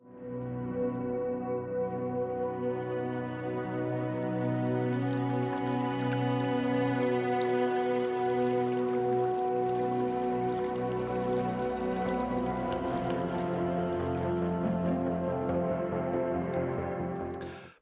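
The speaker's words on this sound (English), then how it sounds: "add the sound of running water under the small bridge at the start of the first level" Running water streams steadily under a small bridge as a game sound effect, a dense continuous wash that swells in gently and holds at an even level for the whole stretch before cutting off, with no voices.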